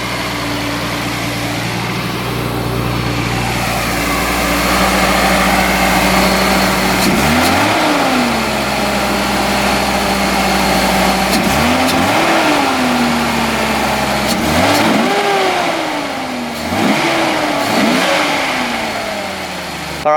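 A Datsun 280ZX engine idling with a low steady drone, then revved repeatedly in several sharp rising-and-falling sweeps, loud and close.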